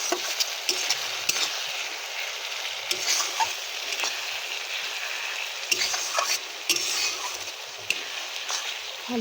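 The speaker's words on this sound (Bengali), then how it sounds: "ভালো করে আদা রসুনটা কষিয়ে নিতে হবে" Ginger garlic paste sizzles and fries with browned onions for a mutton curry, a steady crackling hiss broken by repeated scraping knocks of a spoon stirring in the pan, close and continuous.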